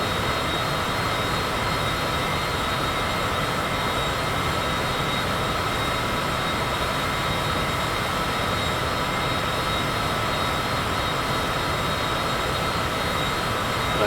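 Steady jet engine roar from an airliner in Microsoft Flight Simulator during a descent toward 10,000 feet, a continuous broadband drone with a constant high whine, loud and unbroken throughout with no talking.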